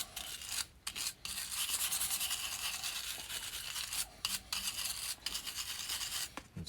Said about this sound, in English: Clean the holes up. Get all the dirt and the grime in there.